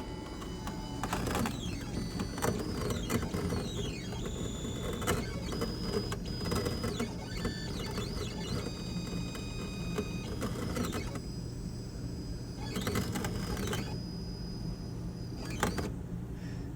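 A homemade waterjet cutter runs a dry pass, its stepper motors whining in rising and falling sweeps with clicks and pauses over a steady low hum, close and continuous without water.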